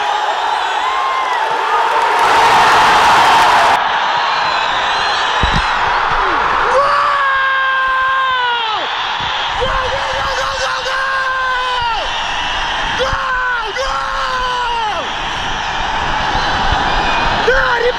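Football supporters in a stadium fan sector yell, whoop and chant loudly at a Kyrgyzstan national team match against India, with repeated rising shouts over a constant crowd roar and a nearby voice talking.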